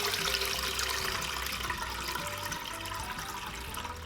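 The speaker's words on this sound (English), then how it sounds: "In a steamer, we're gonna pour water inside" Water is poured into a steamer in a home kitchen, a faint, continuous splashing and trickling stream that runs steadily for a few seconds at low volume.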